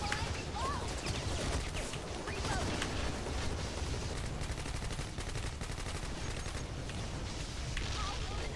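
Rapid bursts of automatic gunfire from a zombie shooter video game with heavy recoil, dense continuous rattling shots throughout, loud and close, mixed with other game effects.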